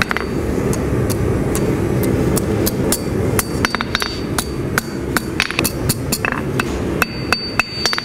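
A hand hammer striking metal in a series of sharp, ringing blows, irregularly spaced, over a steady low background hum.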